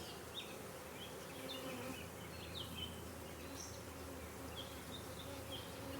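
Honey bee swarm buzzing inside a hive, a faint continuous hum with scattered higher-pitched buzzes of individual bees passing close.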